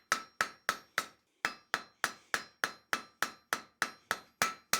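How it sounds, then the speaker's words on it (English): Steel taper forged with rapid, even hammer blows, about three per second, each a sharp metallic ring that decays quickly; close, moderately loud, with one short pause and no voices. "A lot lighter blows near the tip of the taper there."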